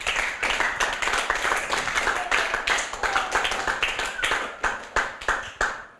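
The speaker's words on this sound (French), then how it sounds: "On te remercie en applaudissant bien fort" Dense applause from a seated audience at a children's book-reading event, steady rapid clapping throughout, fairly close and sustained with no talk over it.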